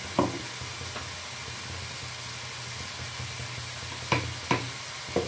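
Onions and bay leaves fry in oil in a pan, a soft constant sizzle close by, punctuated by a few sharp scrapes as they are stirred, with no one speaking.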